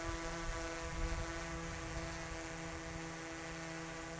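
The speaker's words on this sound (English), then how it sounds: "Just to show you how quiet the drone is" A DJI Mavic 3 drone hovers close by, producing a steady, even propeller whine with stacked harmonic tones, fairly quiet and alone without talk.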